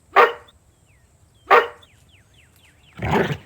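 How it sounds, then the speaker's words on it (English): A dog in the video game Rosewater gives two sharp barks about a second apart, then a rougher, longer growling bark, with faint chirping birdsong in the background. "Control your animal, would you? The dog doesn't seem to care for you."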